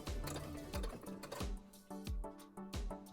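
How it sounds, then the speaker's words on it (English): A sewing machine stitches bias binding onto a small Blythe doll jacket, running in short close bursts with a steady mechanical whir and a regular rhythmic knocking, pausing briefly between runs. "Next, I'll sew on the bias."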